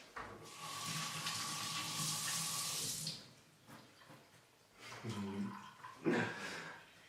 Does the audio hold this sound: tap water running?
yes